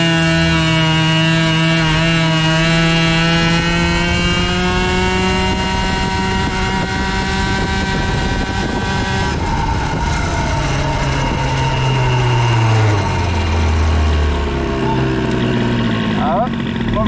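A 50cc moped with a boosted Bas Moteur and Doppler engine setup pulls away from a standstill, its two-stroke engine whining loudly and rising steadily in pitch as it accelerates close to the listener.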